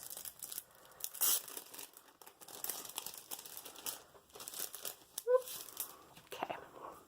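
The plastic bag of a mail package, taped with washi tape, crinkles and rustles up close in irregular bursts as it is handled and opened, with soft murmured talk mixed in.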